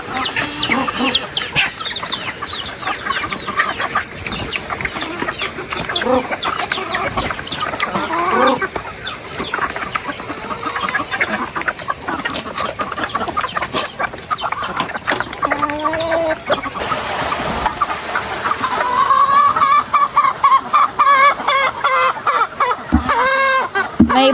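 Chickens cluck and squawk steadily throughout, a busy flock nearby, with brief bursts of louder calls toward the end.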